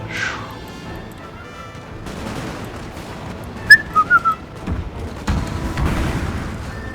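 Cannon barrage in the video game Napoleon: Total War, with a high whistling sweep, a few short bright whistles and scattered distant booms and crashes under a low battlefield rumble.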